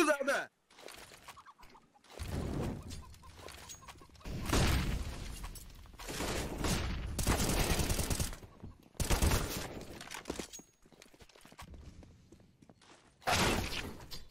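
Rapid bursts of gunfire crackle from a Counter-Strike: Global Offensive esports match, several volleys in quick succession separated by brief pauses, fairly loud and close.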